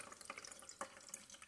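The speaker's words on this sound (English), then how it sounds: "when I open this valve right here, the water is going to self-level out" Water flows between linked IBC totes through an opened valve, giving a steady close rushing and splashing with small gurgles, like a running tap, with no talk over it.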